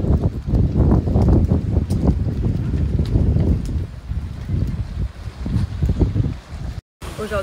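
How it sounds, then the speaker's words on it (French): Strong outdoor wind buffets the microphone in heavy, uneven gusts, with rumbling bursts that rise and fall and a short dropout near the end. "Aujourd'hui, il y a grave du vent."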